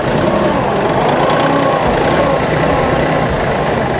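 A KIOTI DK5020 compact tractor pulls away with a loud, close diesel engine rumble that holds steady throughout, and no voices are heard.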